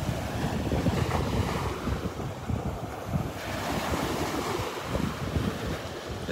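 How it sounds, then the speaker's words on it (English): Steady surf washes in and out on Vanderbilt Beach in the early morning, a broad rolling roar of breaking waves mixed with wind noise, with no voices. "the sounds of the waves"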